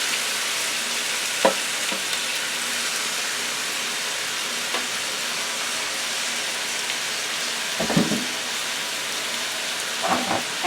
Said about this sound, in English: Now I'm going to add the